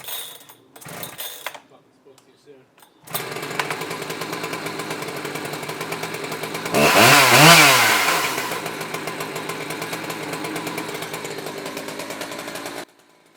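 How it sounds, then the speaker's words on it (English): A chainsaw cuts a slice from a split red oak log, buzzing steadily after a few knocks. It rises to a louder, straining rev midway through the cut, then settles back to a steady drone. "So here's my friend Mike cutting up a cookie off of that log, and that one had a pretty big split in it"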